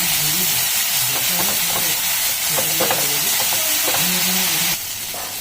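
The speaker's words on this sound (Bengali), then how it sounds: "মশলা দেখতে পেয়েছেন ঠিকঠাক ভাজা হয়ে গেছে।" Spice masala fries in butter in a pan, a loud, constant close-up sizzle and hiss with repeated stirring scrapes throughout, the sizzle easing slightly near the end.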